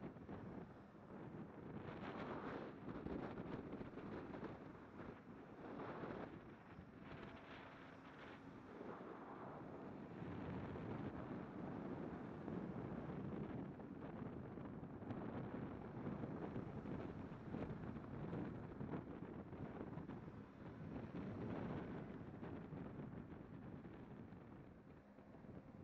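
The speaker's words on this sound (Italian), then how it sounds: "Tirano forte vento." Strong wind buffets the microphone in a continuous, roaring rush with gusts swelling and easing, heard alone without voices.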